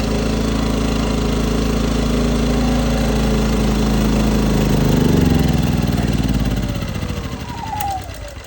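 Westinghouse 2500 inverter generator with a bad carburetor running on starter fluid, a loud close engine roar that holds steady, then sputters and winds down as the fuel runs out.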